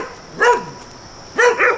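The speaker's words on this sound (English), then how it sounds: "Look at this dog." Two loud, close barks from an emaciated pit bull chained outside, the first a double yelp and the second followed by a quick follow-up bark, separated by a quiet gap.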